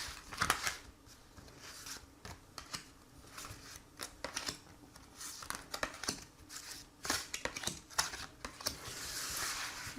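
Tarot cards shuffled for a draw, giving a close run of crisp papery riffles and flicks in irregular bursts, with no talking.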